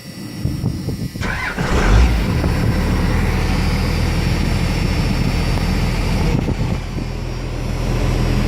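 A 1986 Ford F350 with a Cummins diesel swap cranks briefly, then catches and settles into a loud, steady close-up idle that rumbles on without pause.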